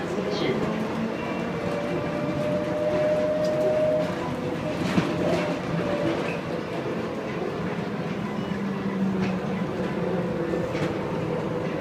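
A tram runs along the Las Vegas Strip, producing a continuous rumbling rail roll with faint clicks throughout, under steady crowd-like background noise, with people talking indistinctly.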